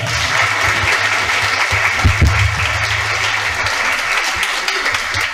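An audience at an uncut Marathi lecture applauds for the speaker, a dense, loud, sustained wash of many hands clapping at once, close and continuous.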